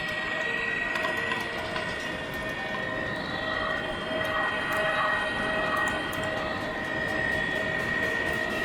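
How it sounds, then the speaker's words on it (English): A GT winch on a Kontiki fishing rig runs with a steady mechanical whir and hum, joined by faint wind and outdoor noise. "GT winch in action."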